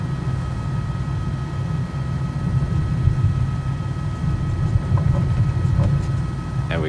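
An H125 helicopter in Microsoft Flight Simulator 2020, sitting on a sloped hilltop campsite and preparing to lift off, gives a steady, loud turbine drone with a low rotor throb and thin high whine throughout, with no talk.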